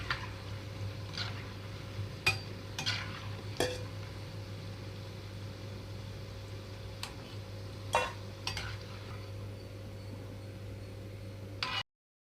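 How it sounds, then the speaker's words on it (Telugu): Onion pakodi fritters frying in hot oil, a steady low bubbling sizzle with a few sharp clicks and scrapes of a spoon or ladle against the pan, close and fairly quiet. "చక్కగా వేయించుకోవాలి వీటిని లోపల ఉన్న ఉల్లిపాయలు కూడా ఈవెన్గా వేగిపోవాలి"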